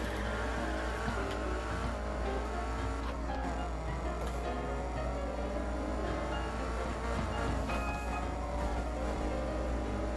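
Car engine accelerating in the Need for Speed racing game, a steady, loud motor drone with rising harmonic tones that holds throughout, with no one speaking.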